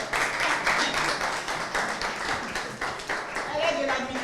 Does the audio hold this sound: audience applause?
yes